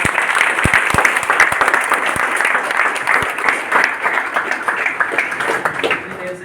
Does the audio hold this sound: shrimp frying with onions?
no